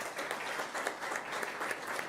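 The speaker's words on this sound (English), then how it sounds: "let's give a round of applause to our chefs" Audience applause for two chefs, Mateo and Sergio, at a culinary conference, a steady, dense crowd clapping that sustains evenly throughout without voices.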